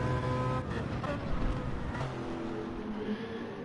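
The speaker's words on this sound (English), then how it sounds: "I'd say the BMW's got a great sound to it" A BMW Gr3 race car in a racing video game circuit race, its engine droning steadily at high revs with shifting pitch, mid-level and continuous under faint background noise.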